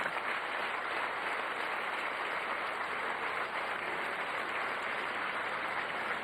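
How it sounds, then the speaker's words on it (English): Long, steady applause from a concert audience, a dense even wash of clapping that holds at a constant level throughout without breaks or voices. "The applause was long and steady."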